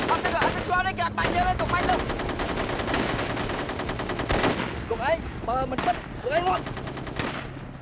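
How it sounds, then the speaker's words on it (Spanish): Rapid bursts of machine-gun fire and scattered gunshots crackle loudly and continuously through a tense hostage standoff, with shouting voices cutting in over the shooting. "¡Dejen de disparar!"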